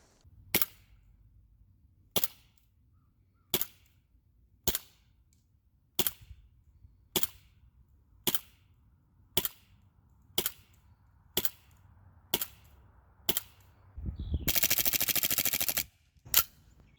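An airsoft Desert Eagle pistol fires BBs through a chronograph in about a dozen sharp, evenly spaced snapping shots. A burst of loud hissing comes near the end, and the shots are close and isolated with no talk.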